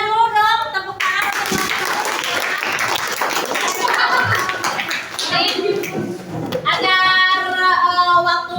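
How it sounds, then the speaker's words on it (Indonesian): A class of seventh-grade pupils clapping hands in a classroom, brisk overlapping claps with children's voices and shouting mixed through, fairly close and loud, with a teacher's voice heard at the start and end. "Kasih aplausnya dulu dong, tepuk tangan."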